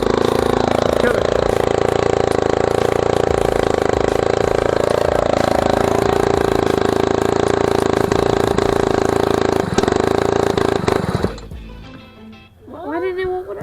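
A 60cc Chinese ATV quad runs very loud with its exhaust not fully attached, a harsh steady engine drone that rises and sags, then cuts off near the end. Voices are heard over it.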